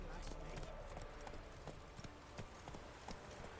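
Roach, a horse in The Witcher 3, gallops with a rapid, steady clip-clop of hooves, moderately loud and close, over a busy game background.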